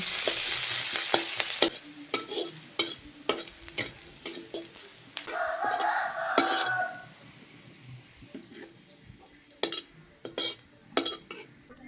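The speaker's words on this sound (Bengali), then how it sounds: "ওই তেলেই পেঁয়াজগুলো লাল লাল করে ভেজে তুলে নিলাম।" Onions fry in hot oil in a village kitchen, a low steady sizzle broken by repeated sharp clinks and scrapes of a metal utensil against the pan, close, with a brief hissing burst midway.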